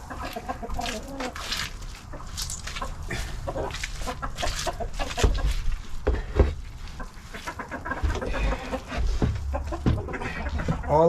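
Backyard chickens clucking close by in their coop, with repeated short clucks and squawks over a busy background of rustling straw and light knocks.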